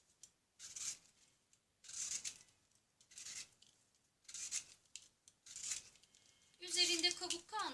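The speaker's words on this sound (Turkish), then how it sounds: "Şöyle bir soyacak yardımıyla tüm ayvalarımın kabuklarını soyuyorum." Quinces being peeled with a hand vegetable peeler for quince marmalade, giving repeated scraping strokes in a steady rhythm of about six passes, close and fairly quiet, with a brief clatter near the end.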